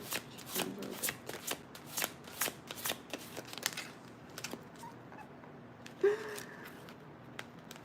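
Tarot cards are shuffled by hand, a rapid series of crisp riffling flutters and soft slaps in bursts, close and clear, with a faint voice briefly near the end.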